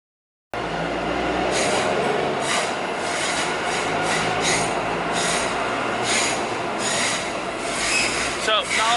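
A train rolls past steadily beside the Auckland railway line near Mount Eden, a continuous loud rumble with rhythmic wheel clatter and a faint squeal toward the end, without speech.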